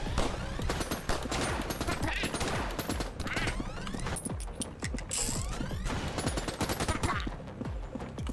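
Rapid, continuous Gatling gun fire from a dumb little minigame inside ANNO: Mutationem, a dense mechanical rattle of shots running the whole stretch at steady loudness.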